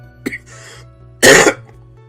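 A single throat-clearing burst followed by a louder, longer cough, close to the microphone and otherwise quiet apart from low hum.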